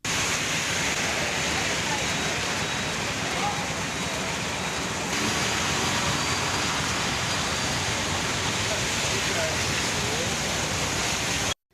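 Heavy summer rain pours steadily over Mettur and Keezhaiyur in Madurai district, Tamil Nadu, a dense, unbroken hiss with no pauses that cuts off abruptly at the end.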